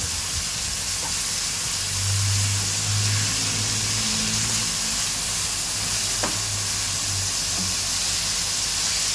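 Minced chicken keema sizzles loudly in a pan over a high gas flame, a steady, close hiss of frying with occasional low rumbles from stirring.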